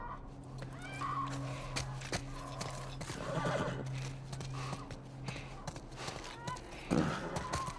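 A horse whinnies and snorts repeatedly over a steady low hum and ambient noise, with hoof clops and occasional thuds nearby, in The Last of Us Part I.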